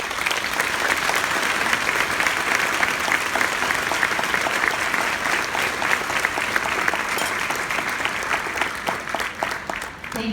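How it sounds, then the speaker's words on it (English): Sustained audience applause fills a luncheon honoring four women, steady dense clapping from a large crowd for the full stretch, tapering slightly at the end. "I'd like to just give one more round of applause for these four amazing women"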